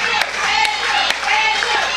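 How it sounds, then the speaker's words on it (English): A wrestling crowd at a live match cheers in a continuous roar with scattered claps and a few sharp smacks. A voice talks over the noise the whole time. "this crowd is unbelievable tonight"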